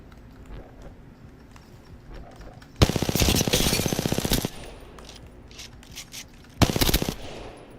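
Rapid automatic gunfire in a video game, two loud bursts of fast repeating shots, the first lasting over a second and the second shorter, with quieter game ambience between.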